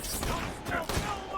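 Gunfire from the video game Borderlands 2, a short stretch of rapid shots blending into dense game noise at moderate loudness, with a voice talking over it.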